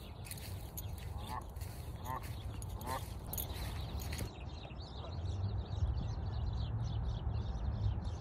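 A duck gives several nasal quacks, spaced about a second apart, mid-distance over a constant background hum and rustle. Later the quacking fades into a noisier wash.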